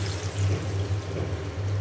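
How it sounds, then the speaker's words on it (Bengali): Water poured into a cooking pot of well-fried potatoes for curry, a steady close pouring wash over a low continuous hum for a couple of seconds, no talking. "পানি দিয়ে দিলাম।"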